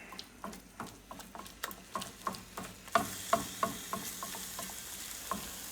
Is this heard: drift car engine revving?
no